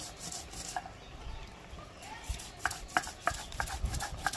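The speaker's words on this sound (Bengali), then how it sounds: "এবার এটাকে বেটে নিই একদম মিহি করে বেটে নেব" Shrimp is ground by hand into a fine paste, producing soft rubbing and scraping strokes that grow into a quicker rhythmic series of gritty scrapes, fairly quiet and close.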